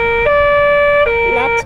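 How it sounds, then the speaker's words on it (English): A children's toy fire engine truck sounds its electronic siren up close and loud, with steady high tones that step between pitches and then warble briefly before cutting off. "you turn the siren on and off right here."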